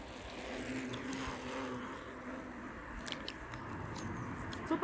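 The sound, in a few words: vehicles passing by on the road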